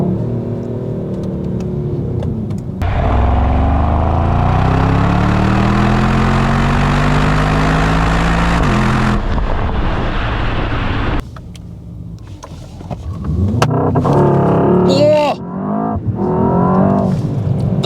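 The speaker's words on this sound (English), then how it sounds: "What a great sound, honestly. Oh, it's got a strong pull. Yes, this is definitely a fast car" A Mercedes-Benz S63 AMG E-Performance engine accelerates loudly from a low rumble into a rising, climbing roar through gear changes, then drops off into quieter engine noise and rustling near the end.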